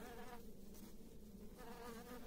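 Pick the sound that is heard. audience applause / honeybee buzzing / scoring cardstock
honeybee buzzing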